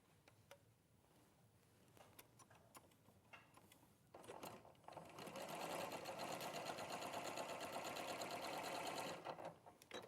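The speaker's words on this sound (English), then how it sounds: "you're just going to sew from one corner straight across to the other corner" A sewing machine stitches small fabric squares from corner to corner, starting with a few stop-start bursts, then settling into a loud, steady, rapid mechanical whir before easing off at the end.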